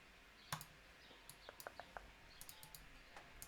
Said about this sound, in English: Sorry if you can hear my clicking, by the way